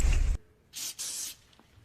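Several short hissing bursts of aerosol spray, a brief pause between them, in an otherwise quiet room.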